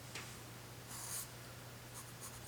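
Graphite pencil sketching on paper, a steady soft scratchy rasp of strokes with brief louder crosshatch-like bursts, close and quiet over a faint low hum, no voices.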